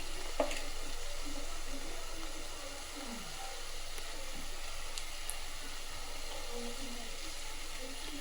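Fish pieces frying in a pan with golden-browned onions, a soft continuous sizzle and bubbling held at a moderate, fairly quiet level throughout.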